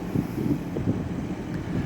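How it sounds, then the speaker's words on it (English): Steady low wind rumble buffeting the microphone outdoors beside a 2017 Mercedes-Benz S550 Cabriolet, a soft continuous roar with gentle gusts and no voices. "it's a little windy out here"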